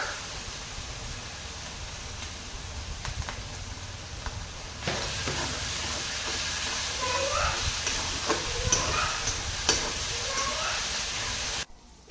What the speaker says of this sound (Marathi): छान अशी फोडणी तळून घ्यायचं आहे. त्यामध्ये मी टाकलेलं आहे काजू बदाम आणि शेंगदाणे.